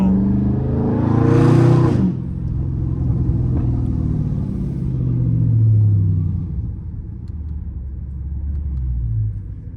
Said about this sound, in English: We slide in every turn, but you know, I just call them drifting.